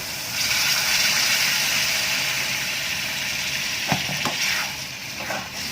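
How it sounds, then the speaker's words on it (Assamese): Water from boiled chickpeas poured into a pan of sizzling chole: a loud steady hiss of frying fills the clip, with a few short splashy bursts near the end, and no voices. "এতিয়া ইয়াত বুট বইল কৰা পানীখিনি দিম।"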